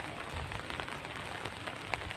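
Rain falls steadily over a vegetable field of string beans and cucumbers, a faint, even hiss of drops with a few sharper taps standing out, close by and continuous throughout with no voices.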